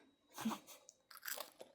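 Crispy fried chicken from Noorang Tongdak is bitten and chewed close up, making two short bursts of loud, crackly crunching separated by a brief pause.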